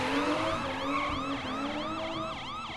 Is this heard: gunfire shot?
no